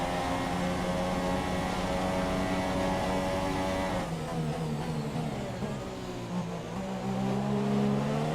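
A Formula 1 car engine in the F1 2017 racing game at the Austrian circuit holds a steady, dense, loud drone that shifts pitch midway as the car runs in another car's slipstream, with no voices over it.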